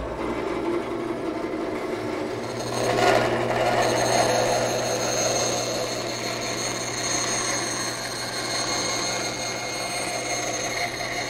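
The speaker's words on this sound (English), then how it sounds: "Now over here at the bandsaw, I'll go ahead and cut away the waste material" Steady mechanical whir of a bandsaw cutting through wood, continuous and fairly loud, with a slight swell as the blade bites in midway.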